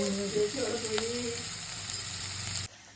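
Onions sauté in oil inside a rice pot while making vegetable biryani, giving a steady close sizzle with a brief spatter of louder crackle, then the sound cuts off abruptly.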